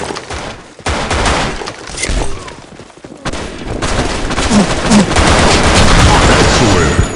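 Rapid, loud weapon gunfire in the online shooter BlackShot on the Lost Temple map, dense overlapping bursts of shots that continue without pause, with faint game voice callouts mixed in.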